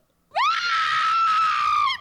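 A woman in a film scene lets out a single loud, sustained high-pitched scream lasting under two seconds, close and clear against near silence.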